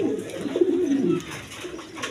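Large imported pigeons, a breeding pair with eggs, give close, throaty coos: a steady rolling call that rises in the middle, then eases into quieter cooing, with no talking.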